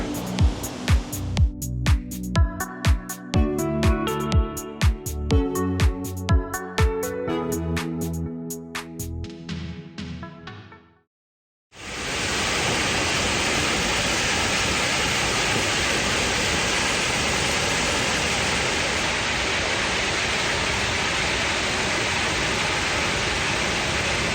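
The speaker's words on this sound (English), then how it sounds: "This is the highest waterfall in Ireland, where the Dargle River" Waterfall on the Dargle River in Ireland's Wicklow Mountains, the highest in the country, a steady broadband roar of falling water filling the second half after a run of rhythmic music cuts off.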